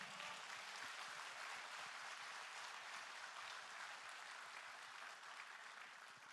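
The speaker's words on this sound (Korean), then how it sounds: "여러분, 결의를 다지는 박수를 다시 한번 보내주시기 바랍니다" A Democratic Party rally crowd in Busan, Ulsan and Gyeongnam applauds, a steady unbroken wash of clapping heard from a distance and fairly quiet.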